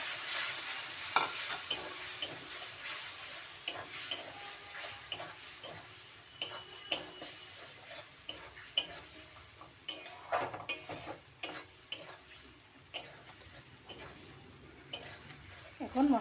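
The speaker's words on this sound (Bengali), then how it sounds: "এখন মশলাটা ভালোভাবে ভেজে নেব।" Dry spices fry in a pan and are stirred with a utensil: a soft, continuous sizzle broken by repeated close scrapes, taps and metallic clinks against the pan in an irregular rhythm.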